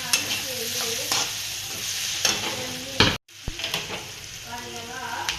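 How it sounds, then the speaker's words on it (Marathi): Chopped cluster beans (gavar) for a spicy curry sizzle as they fry in a pan. A utensil stirs them in repeated scraping strokes with a short pause, close and clear over the steady frying hiss, with a voice talking quietly. "हे बघा ह्याला सगळं एकत्र करून घेऊ आपण, मिक्स असं"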